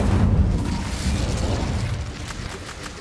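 Incendio fire spell erupting in the wizarding video game Hogwarts Legacy, a loud, heavy rumbling burst that opens forcefully and then rolls into a fading, crackling roar, with no talk.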